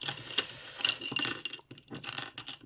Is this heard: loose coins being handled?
yes